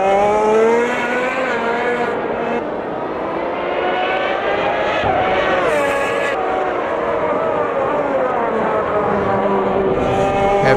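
A first-generation McLaren F1 car in Automobilista 2 at Interlagos screams at high revs, its engine pitch climbing and dropping through gear changes as the car laps alone, loud and close throughout.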